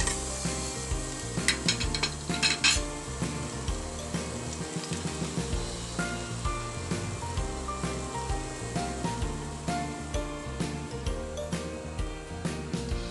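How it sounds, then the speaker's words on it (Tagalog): Minced garlic sautéing in a pan, a dense steady sizzle with repeated stirring scrapes and clinks running throughout, close and fairly loud, no voices. "Let's add the minced garlic. And"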